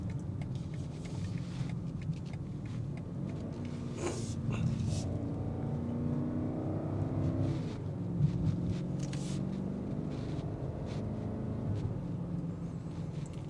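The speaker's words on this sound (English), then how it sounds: "And you have the exhaust that filters in the whole time." A BMW X5 M60i is being driven, and a low exhaust rumble carries into the cabin. The drone is quiet and steady, rising and falling gently in pitch as the engine works, with no talking.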